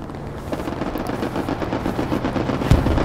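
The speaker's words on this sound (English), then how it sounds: "They're shooting at me." Sustained gunfire in a Hell Let Loose World War II battle, with rapid machine-gun bursts and scattered shots rolling continuously. A heavier boom lands near the end. The whole passage is loud and close.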